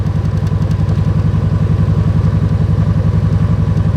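Motorcycle engine chugging at low speed in second gear on a sandy rural road, a steady close rumble with rapid even firing pulses throughout, no talk.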